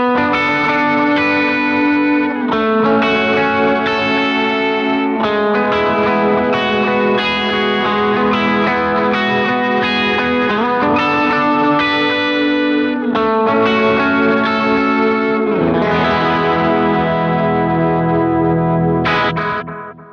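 Electric guitar runs through a delay pedal on its analog setting, its phrases trailed by dark, soft repeats in the style of a Memory Man that blend into the playing, loud and continuous before fading out.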